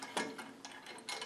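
Quiet, close ratcheting clicks as clamps are locked down onto a board on a bandsaw wedge-cutting jig, a few short mechanical snaps spread across a brief moment.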